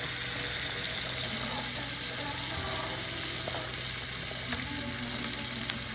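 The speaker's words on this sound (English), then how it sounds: "So I'm stirring my beans up again." Mixed beans boil in a pot while being stirred, making a steady bubbling, watery hiss with faint scraping. The sound is close and continuous, with no voices.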